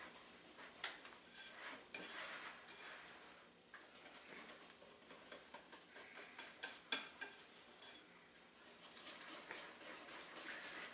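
Two eggs being mixed into Texas sheet cake batter in a bowl, with a string of light clinks and scraping taps of utensil against the dish, close and fairly quiet, no talking.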